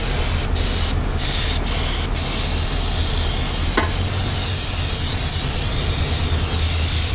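Brake cleaner hisses loudly and continuously from an aerosol can onto an oily bolt during Ford 2.7 EcoBoost axle seal work. A few short bursts come first, then a long sustained spray.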